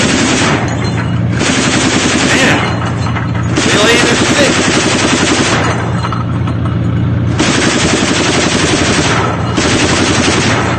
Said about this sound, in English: You see them lining up the BMP-2s to A-42 30mm autocannon.